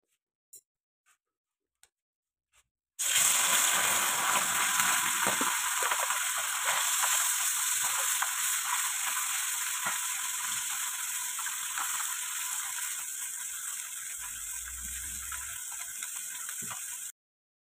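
Fish with spices frying on a wood-fired clay stove, a few faint taps and then a sudden loud, steady hiss and sputter that continues and softens slightly, with a low rumble near the end.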